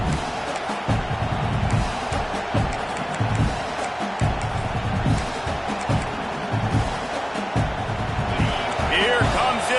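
A home crowd roars steadily through a college football game between Michigan and Florida State as the defense tries to get off the field on third down. The broad stadium noise sits loud and constant beneath an announcer's talk.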